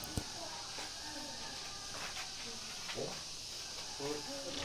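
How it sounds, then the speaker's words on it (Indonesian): Dried palm frond stalks fry in fresh hot cooking oil, giving a soft, steady hiss and faint crackle at a low level, with a few brief clicks and scrapes but no talk. "Pelepah yang telah dijemur kemudian digoreng dengan memakai minyak goreng yang baru dengan"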